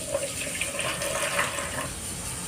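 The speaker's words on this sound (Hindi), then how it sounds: "तो सबसे पहले इसमें हम लेंगे 80 ग्राम पानी" Plain tap water runs steadily into a container as the first ingredient for a batch of liquid soap, a continuous close splashing and trickling flow with no talk.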